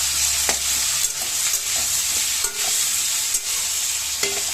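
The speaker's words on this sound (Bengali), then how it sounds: "আর এখানে তেলে আমি পেঁয়াজ টমাটার এগুলো ভাজা করে নেব পনিরের জন্য, একসাথে অল্প অল্প ভাজা" Onions and tomatoes frying together in oil for a paneer dish, a steady close sizzle broken by stirring scrapes and light clinks of a utensil against the pan, with no talking.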